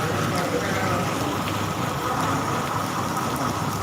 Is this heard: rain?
yes